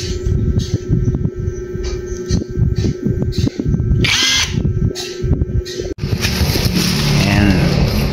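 A Makita cordless impact wrench runs in loud, rattling hammering bursts close by, stopping and restarting repeatedly over several seconds with steady machine noise behind it.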